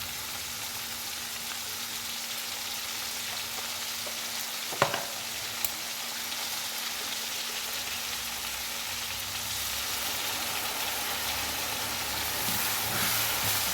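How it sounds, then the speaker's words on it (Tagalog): Ground meat frying in a pan over sautéed onion and garlic gives a steady, close sizzle that runs the whole time, with a sharp clatter of utensil against the pan partway through and no talking. "Lagay na natin ang giniling."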